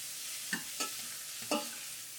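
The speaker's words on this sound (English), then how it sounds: "start sauteing onions with the garlic" Onions and garlic sautéing in a pan, a low sizzle with three or four brief scraping stirs of a utensil, close up and fairly quiet.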